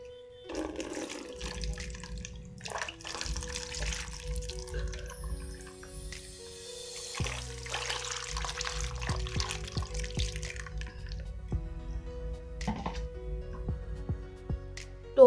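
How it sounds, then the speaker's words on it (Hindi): Water is poured and splashed in a small container indoors, giving soft irregular trickles and drips. The sounds are fairly faint and close, come in separate bursts with quiet gaps between them, and no one speaks. "तो मैंने यहाँ पे पानी ला रखा है"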